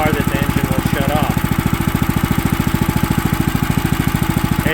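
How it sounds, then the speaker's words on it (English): An engine idles at a lowered idle speed with a steady, fast, even pulsing chug, loud and close, running continuously with no talk. "I let it idle a little bit lower, but you don't want the engine to shut off."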